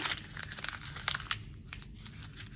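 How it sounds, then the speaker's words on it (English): A half sheet of paper is crumpled by hand for a yarn bird craft, giving a close, quiet run of crinkling and crackling bursts that ease off toward the end. "So we are going to crumple up our half sheet."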